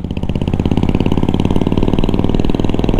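A motorcycle engine runs loud and close on a long road ride, a dense, rapid pulsing drone that holds steady throughout with no talk over it.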